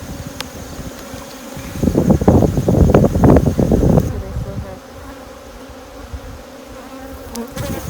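Honeybees buzz loudly around their hives while the hives are treated and moved, a dense swelling drone peaking for a couple of seconds before settling into a fainter hum against light wind.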